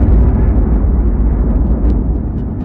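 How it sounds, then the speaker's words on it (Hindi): A huge explosion sound effect depicting the birth of the sun: a loud, deep, sustained rumble that roils steadily throughout and fades slightly at the end, with no voices. "बीच के इस भयंकर दबाव के कारण एक विशाल विस्फोट हुआ"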